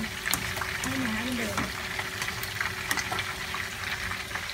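Ingredients for pasta mayo sizzle steadily in a pan over medium heat, a soft continuous frying hiss with small crackles, while someone talks over it.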